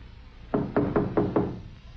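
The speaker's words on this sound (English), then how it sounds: "Harry knocked." Knocking on a cottage's wooden door as an audiobook sound effect: five firm, evenly spaced knocks, close and resonant, over a quiet background.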